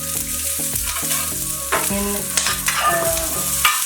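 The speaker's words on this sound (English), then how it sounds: "Saute a bit for a while. And I'm adding in onion" Onion sautéing in sesame oil with garlic in a pan for fried noodles, a steady close sizzle with stirring scrapes and clinks, one brief spoken word.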